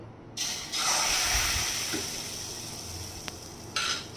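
A ladle of gola ruti batter hitting a lightly oiled wok, a sudden hissing sizzle that swells then settles into a softer steady fizz, with a brief clink near the end, heard close and without speech.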